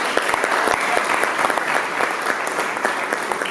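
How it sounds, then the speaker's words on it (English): A youth awards ceremony audience gives a round of applause, dense and even clapping with a few sharper individual claps standing out, sustained without break for the whole stretch. "So could we please give them a round of applause?"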